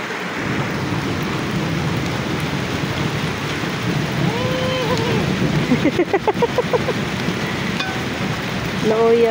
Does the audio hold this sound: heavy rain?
yes